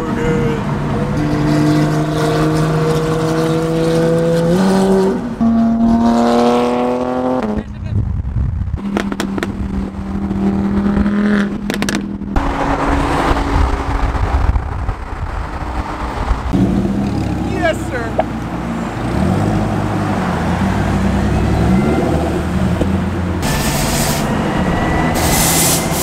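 A straight-piped GT3 revs loudly and up close at a car rally in Los Angeles. Its raw, rising engine notes repeat in several pulls, with background noise throughout.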